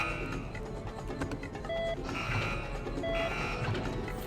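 An alarm sounds in the Resident Evil 4 video game: repeated electronic beeping tones in an even pulse, two longer bursts standing out, over a busy, noisy mechanical background.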